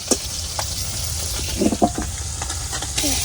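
Small fish fry in a hot pan with a steady crackling sizzle, punctuated by a few sharp pops and spatters up close.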